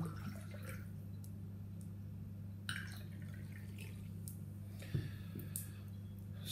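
Ginger beer pours faintly into a glass of Zhu spiced rum, a quiet trickle and a few drips over a steady low hum, with no talk.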